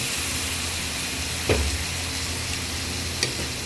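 Soy sauce sizzles in a pan of pancit bihon, a constant close hiss with stirring scrapes and a couple of brief clinks, no voices.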